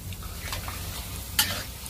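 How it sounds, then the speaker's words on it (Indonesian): Dough frying in oil over a small flame in a pan, a soft, low sizzle with faint bubbling and a brief sharper crackle near the end, close and quiet with no talking. "Kita goreng sampai agak ke kuning-kuning emasan."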